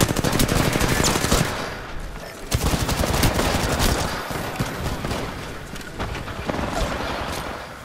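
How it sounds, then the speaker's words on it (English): Heavy automatic gunfire in a video game, loud and near, firing in long rapid bursts with a short lull before the shooting resumes and keeps going. "I'm shooting him in the back of the head"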